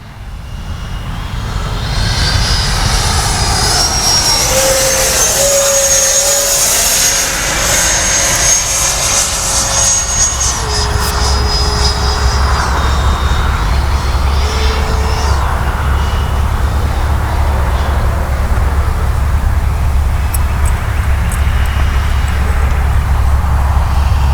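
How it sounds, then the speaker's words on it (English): A 90mm Freewing Eurofighter Typhoon RC jet makes a gear-down pass over the field, its ducted-fan whine rising and sweeping as it approaches and passes overhead, then settling into a steady loud roar that holds to the end. "Come by and do a gear pass, make sure my gear is down."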